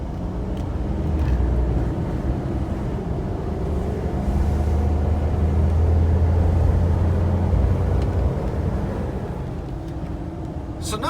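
Diesel pickup truck on 37-inch tires with a 6-inch lift and an AG Diesel Solutions tuner, a steady heavy engine roar building through a rolling pull from about 40 to 70 mph, loud and continuous with road noise.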